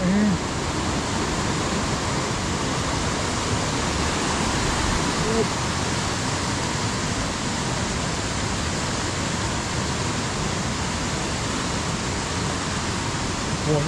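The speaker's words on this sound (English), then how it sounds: "See this stream right here?" Steady broadband rush of a stream flowing along the Bradley Fork trail in the Great Smoky Mountains, a continuous even wash of water close by with no pauses.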